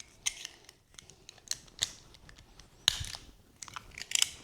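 Twisted-pair string trimmer line is snipped to length: a handful of sharp, close clicks and crunchy cuts spaced irregularly over a quiet background.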